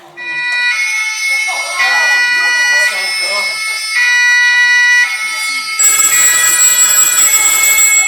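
In the French film Gustave n'est pas à la noce, a telephone rings insistently with steady bright tones, while French voices talk over it and other sounds crowd in near the end.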